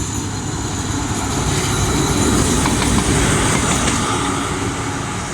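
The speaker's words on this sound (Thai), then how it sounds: "รถจักรอันสตอมกำลังจะวิ่งผ่านจุดตัดทางรถไฟ" An Alsthom diesel locomotive with an MTU engine, running light, rumbles steadily past a level crossing at Samsen, Bangkok, at close range, a loud continuous roar of engine and rolling wheels with faint rail clatter throughout.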